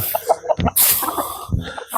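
Fighting cocks at a Thai farm holding over a hundred birds, mostly large white ones, cluck and call in short bursts close by, with a brief louder squawk partway through.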